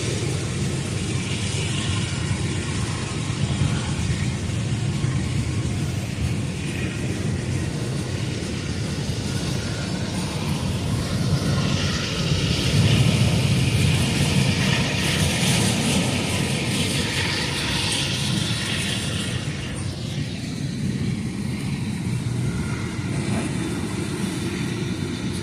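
A slow intermodal freight train with a single locomotive rolls past, a long, even low rumble that holds steady and swells slightly midway, with no talking.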